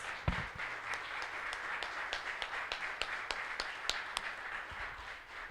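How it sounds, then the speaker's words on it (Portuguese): A church congregation applauds during a service, a steady run of rhythmic claps heard at a distance, faint and reverberant, with no voices over it. "mais palmas ao Senhor Jesus"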